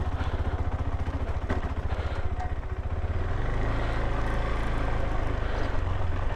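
A KTM 390 Adventure motorcycle putters along slowly in second gear, its single-cylinder engine chugging in a steady low rhythm that swells slightly louder partway through, close by with no talk.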